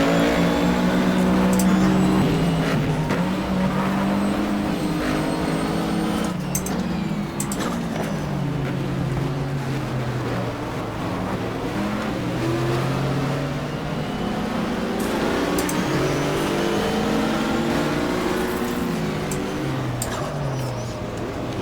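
Camaro race car in the 1995 Daytona 24 Hour race on GTR2, its engine droning loud and steady with gear shifts and pitch sweeps, another car passing partway through.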